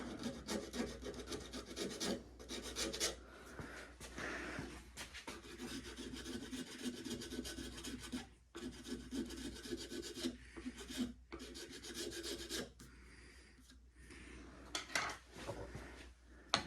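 A round chainsaw file rasping on the wooden tip of a longbow, close and steady strokes in a rough back-and-forth rhythm with brief pauses between bursts.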